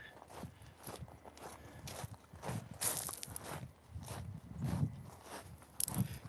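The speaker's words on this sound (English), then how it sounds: "Could you guys hear my footsteps?" Footsteps walking at a steady pace, close to the microphone, a run of soft, even thuds with a little scuffing and no voices.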